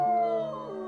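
A wolf gives a defensive howl, a sustained tonal wail with rich harmonics that slides slightly in pitch, loud and close, lasting about a second with no talk.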